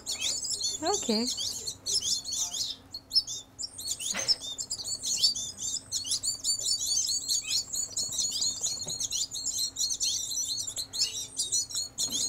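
Hungry baby birds chirp in a rapid, high, continuous chatter while being hand-fed, with a brief spoken word and soft handling noises nearby.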